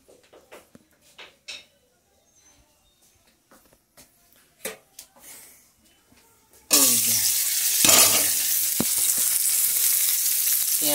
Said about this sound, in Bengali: পেঁয়াজ কুচি দিয়ে দিলাম।